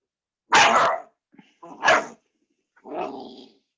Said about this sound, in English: You gotta go if you're gonna bark.